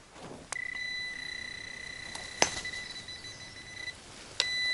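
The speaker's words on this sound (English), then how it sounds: "Foil. Aluminum foil. Sets the metal detectors off like crazy." A metal detector sweeping over aluminum foil at an abandoned gold mine gives several sharp, clear high-pitched beeps and sustained tones, close and fairly quiet, with brief clicks and no talk.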